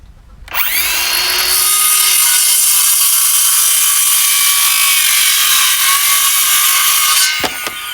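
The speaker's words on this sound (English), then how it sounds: "that Ryobi saw will cut all day long" A Ryobi power saw cuts wet scrap wood for chicken waterer legs, spinning up sharply into a loud, steady high whine that holds for several seconds, then winds down at the end.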